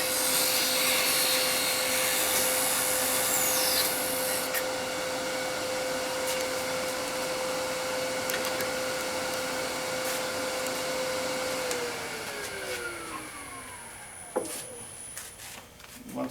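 A wood lathe spins a pendant ornament with a steady, whirring motor hum while a thin parting tool rubs and scrapes at the wood, then the motor winds down and its pitch falls near the end.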